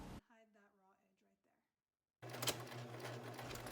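A sewing machine stitches down a fabric casing on a ruched crop top, its motor whirring steadily and close for the last second and a half after a short stretch of talk and a pause.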